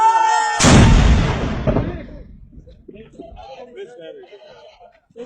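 A single loud gunshot fired on command by Pakistan Army troops cracks sharply and booms, then decays into a rolling echo. Voices talk and chuckle under and after the shot.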